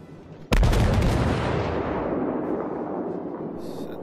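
A New Orleans heavy cruiser fires its main guns in World of Warships with one sudden, loud, deep boom, followed by a long rolling rumble that slowly fades and is never broken by speech.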